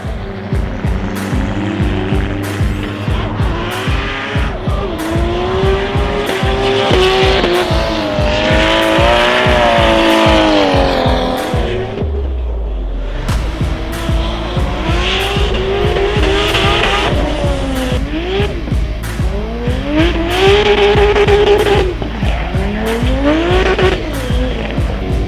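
An LS1-engined drift car practicing at a D1NZ event screams past under hard throttle, its engine rising and falling through gear changes, with long howling tire squeal and skidding, a brief lull midway, then renewed revving and squeal.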